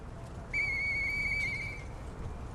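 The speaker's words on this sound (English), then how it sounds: "I know that whistle." A sustained high-pitched whistle from the Lies of P video game sounds for about a second and a half, bright and steady with overtones, then cuts off cleanly over a low background hum.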